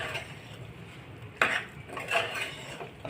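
A spoon scrapes and clinks against a pan while rajgira flour sheera with almonds, jaggery and cardamom is stirred, a few quiet scraping strokes with one sharper knock, close and soft, without talk.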